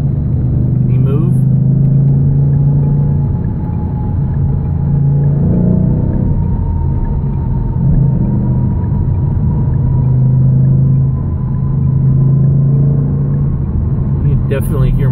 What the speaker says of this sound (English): Definitely hear my car a lot more now too without these tires